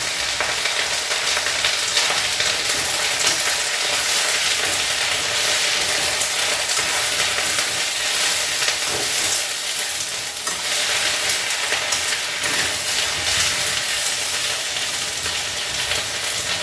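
A tempering sizzles and crackles in a pan of hot oil for a moringa-leaf and tamarind chutney, a continuous busy frying hiss with occasional stirring scrapes throughout.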